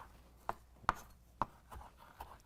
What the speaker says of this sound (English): Keep chopping it